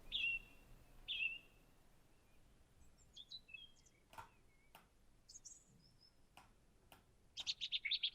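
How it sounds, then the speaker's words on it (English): Birds chirp and tweet outdoors, a few clear calls near the start and a rapid burst of chirps at the end, with faint wind and open-air ambience between them. "Mostly what you'll hear is birds tweeting, and in the background there's various wind and other outdoor atmosphere."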